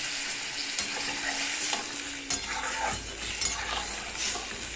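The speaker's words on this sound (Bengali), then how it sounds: "চলুন তাহলে ভালো করে ভেজে নিই।" Snake gourd, cooked with lentil dumplings (bori) for a mustard curry, fries in a pan. A continuous hiss and sizzle carries repeated stirring scrapes, and a couple of sharp metallic knocks stand out.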